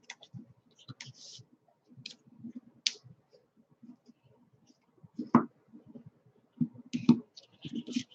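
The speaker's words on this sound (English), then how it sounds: "we're going to take our bone folder and we're going to burnish those" Folded paper being burnished with a bone folder, giving soft scattered rubs and clicks of tool on paper at close range, some sharper taps, with no talking.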